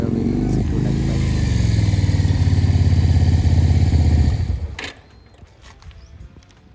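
A Keeway K-Light 250V cruiser motorcycle with about 25,000 km on it is being ridden, its steady engine drone loud and close for about four seconds before dropping away to quieter road noise.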